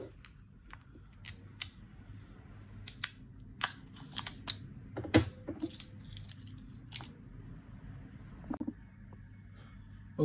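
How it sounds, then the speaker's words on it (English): Plastic seal on Apple Pencil (2nd generation) packaging being peeled and torn open, a string of sharp close crackles and snaps spread across the clip with quiet gaps between. "so let's open that seal"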